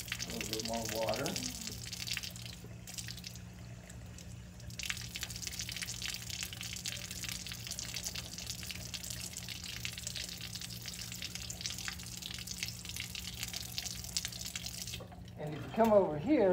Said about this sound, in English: add some water to see if I can rinse this out